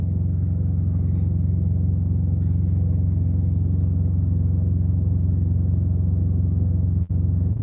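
A Schneider Company truck backs in beside a parked trailer, its engine a steady, loud low rumble that holds unbroken throughout with one brief dip near the end.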